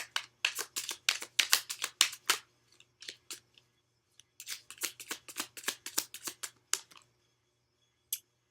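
Tarot cards are shuffled in quick riffling bursts, two long runs of crisp snapping flutters with a short pause between, close and fairly quiet, with one last lone flick at the end.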